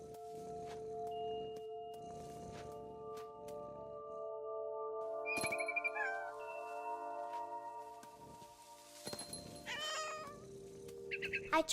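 A cat meows in the game What Remains of Edith Finch, with a drawn-out meow partway through and then several short, high mewing cries near the end over a quiet ambient bed and soft footsteps.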